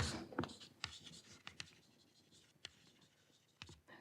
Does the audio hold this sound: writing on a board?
yes